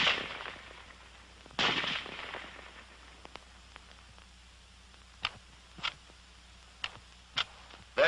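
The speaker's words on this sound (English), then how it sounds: "The rifle will fire each time the trigger is pressed until the magazine is empty." Rifle fire from a WW2 M1 Garand, heard as a few sharp isolated cracks spaced a second or so apart after one louder opening burst, moderately close with quiet gaps between shots.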